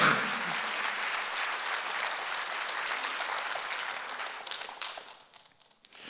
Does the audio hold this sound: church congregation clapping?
yes